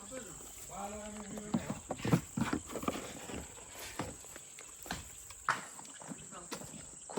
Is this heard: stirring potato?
no